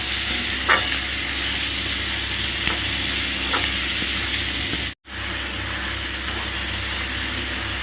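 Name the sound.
tomatoes and crushed garlic frying on raised flame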